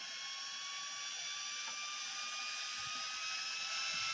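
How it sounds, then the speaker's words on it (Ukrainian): The cooling fan of a charger for a CALB 12V 200Ah LiFePO4 battery runs with a steady airy rush and a high whine whose pitch slowly climbs as it spins up, with no talking. "Ось, Кулер знову увімкнувся."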